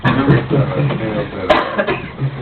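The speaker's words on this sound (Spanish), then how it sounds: "te he oído carraspear" A man clears his throat and coughs briefly in a room during a group talk, a couple of short rough bursts mixed in with nearby speech.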